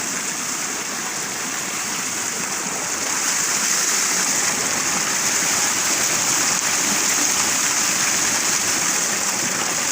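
Fresh cold water streams steadily in a village field setting where mangoes are being cooled, a continuous close rushing and splashing that grows slightly louder partway through, with no voices.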